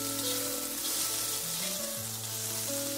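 Steady, close sizzling of paneer chilli frying with vinegar on a high flame, continuous throughout with a faint tonal hum underneath.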